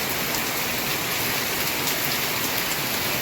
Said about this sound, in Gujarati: બહુ જબરદસ્ત વરસાદ આવ્યો છે